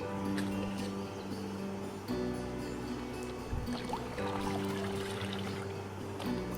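Water pours onto the soil of potted plants as they are watered. A soft, close trickle and splash comes in a few separate pours, quiet and without talking.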